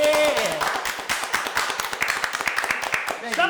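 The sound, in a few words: clapping from the audience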